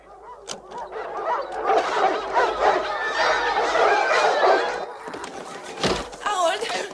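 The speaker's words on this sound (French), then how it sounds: "Des chiens." Several dogs bark in a lively, overlapping run that builds and stays busy, mixed with excited yelps, while people talk and exclaim over the commotion.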